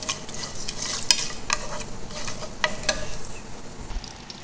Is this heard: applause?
no